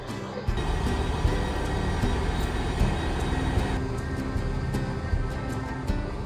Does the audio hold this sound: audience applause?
no